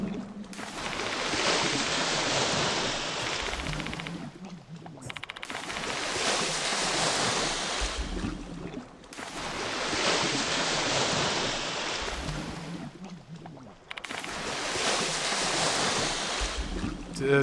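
Water rising through a flooding room in the horror game Spirit Hunter: Death Mark II, a loud, broad rushing surge that swells and recedes in roughly four-second waves, without talk.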